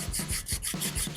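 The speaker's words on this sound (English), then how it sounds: "We got to the part where it's the hand sanding" A handmade knife is hand sanded with strips of broken detail-sander belt, making quick back-and-forth rasping strokes, about seven in close, regular rhythm, each a short dry scrape.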